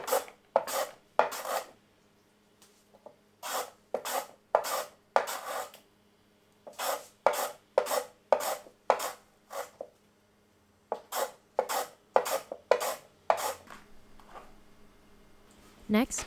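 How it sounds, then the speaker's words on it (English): Carrots are peeled, cut into roughly 5 cm pieces and julienned, giving close, crisp knife strokes in rapid bursts of rhythmic chopping against a board, with short pauses between runs. "peel, cut carrots into about 5 centimeter pieces, then shred or julienne."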